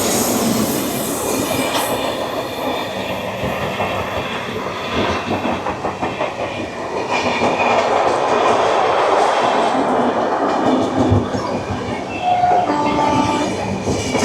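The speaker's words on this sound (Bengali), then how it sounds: "চলে আসছে train number 12839 Howrah Chennai mail" The Howrah Chennai Mail, train number 12839 hauled by a WAP7 locomotive, rolls past at close range, with loud rumbling wagons, rhythmic clickety-clack and squealing wheels throughout.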